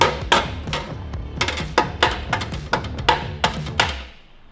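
Hammer blows ring out in a garage during the build of a turbocharged Ford Fairlane drag car. The strikes are loud and close, come in irregular bursts of a dozen or so, and then fade to quiet.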